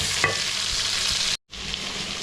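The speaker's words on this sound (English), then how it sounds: "when the potatoes cook through the oil, we add all our spices" Potatoes and spices fry in hot oil for Kenyan githeri, a steady close sizzle with stirring scrapes, briefly cut to silence before the frying hiss resumes.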